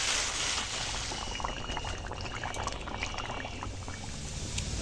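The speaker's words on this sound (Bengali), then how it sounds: "অল্প অল্প জল দেবো এবার নয়তো তলায় লেগে যাবে" Water is poured little by little into a cooking pot of chicken curry with new potatoes, making a steady, close, continuous splashing and sizzling wash that lasts throughout the clip.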